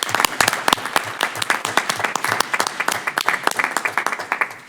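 Audience applause for students at a Roswell city council meeting, a steady round of many hands clapping, crisp and close, holding for several seconds before starting to thin out.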